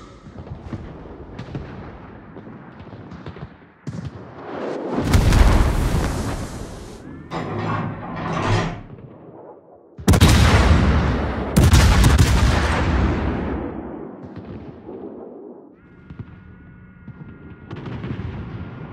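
Heavy naval guns from the warship Venezia firing in a clan battle of a naval combat video game: loud booming salvos around five and ten seconds, each followed by long rumbling decays, with scattered smaller blasts in between.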